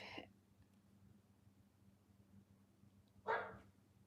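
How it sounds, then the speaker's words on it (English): Two short dog barks, one at the very start and another a few seconds later, both faint and distant over a quiet hum. "Sorry for the barking."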